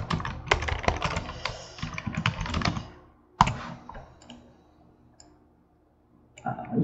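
Text being typed on a computer keyboard while a stencil is made: close, busy bursts of key clicks, then a sharp tap, a lull with scattered faint clicks, and typing resuming at the end.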